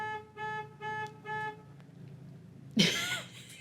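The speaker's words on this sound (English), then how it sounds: "there was a honking outside" A car horn honks three times in a row outside an office, evenly spaced toots at moderate distance, followed by a brief quiet and then a sudden burst of noise.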